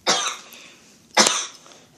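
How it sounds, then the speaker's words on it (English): Two separate coughs, close and fairly loud, with a short pause between them. "There's my sister coughing"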